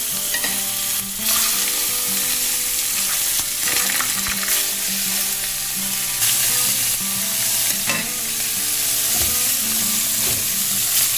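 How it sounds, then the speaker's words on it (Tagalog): Loud, steady sizzling of freshly caught fish frying in a pan, with constant crackle and occasional stirring or scraping sounds, no voices. "prito lang natin ating isda"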